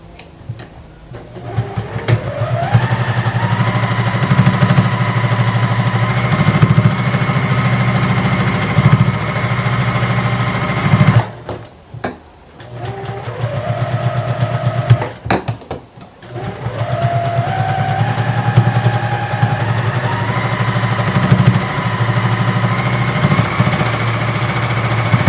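A sewing machine threaded with dark gray thread stitches a quilted project in steady, loud mechanical runs, pausing briefly around the middle before starting up again, with no talking.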